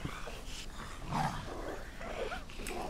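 Zombies in the video game DayZ growl in a low, continuous rumble, steady and fairly loud throughout with no clear pauses.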